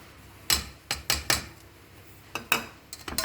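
Squid is stirred with oyster sauce, salt, fish curry powder and white pepper powder using a metal spoon, giving a series of irregular sharp clinks and scrapes against a bowl, close and fairly loud.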